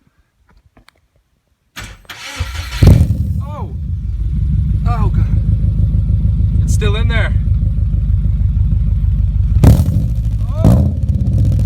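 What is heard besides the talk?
car engine with Tsudo full header-back exhaust starting and revving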